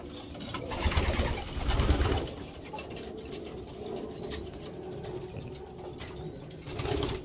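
Pigeons in a racing loft coo softly with occasional wing flaps and shuffling, close but fairly quiet, forming a continuous low murmur of birds throughout.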